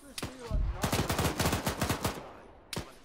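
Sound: gunfire from a video game

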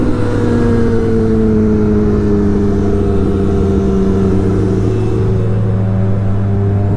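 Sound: superbike engine revving during a race

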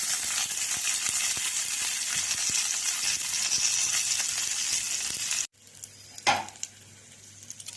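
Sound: tempering of chana dal and curry leaves sizzling in oil

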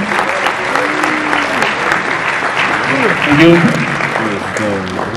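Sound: audience applause for Roy at FX Summit

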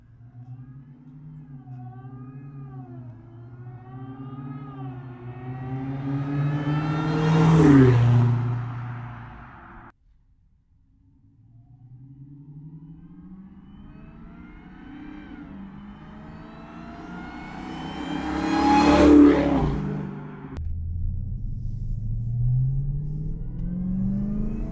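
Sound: Dodge Hellcat engine revving with Legmaker intake whine

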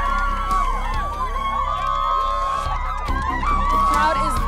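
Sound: crowd cheering

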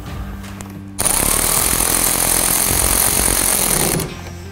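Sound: tightening a nut with a 10 mm socket

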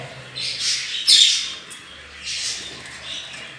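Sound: Japanese bantam chickens in a coop

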